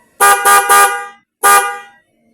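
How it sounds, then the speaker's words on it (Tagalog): Loud dual car horn blasts, three quick honks in a row, a short pause, then one more, close by with no talk. "Okay, busina natin."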